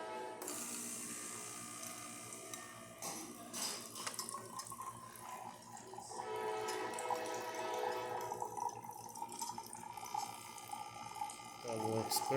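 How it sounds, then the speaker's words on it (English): A serviced Gaggia Magenta Prestige espresso machine dispenses hot water with a steady hiss and gurgle. A mechanical whir and clicks sit underneath, and the sound swells toward the end. "So let's test the hot water."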